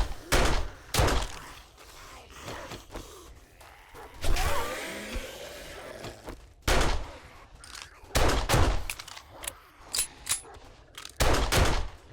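Gunfire in 7 Days to Die, with repeated loud close shots in quick bursts and volleys spread across the stretch, separated by brief pauses.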